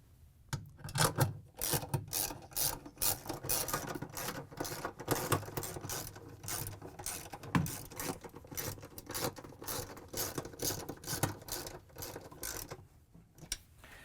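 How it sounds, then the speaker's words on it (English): A 13mm socket wrench drives bolts into the clutch assembly of a Samsung washer, giving a busy run of rasping, clicking ratchet strokes and metallic rubbing, close up and fairly loud, with short pauses between bursts. "going to use our 13mm socket to put these back in"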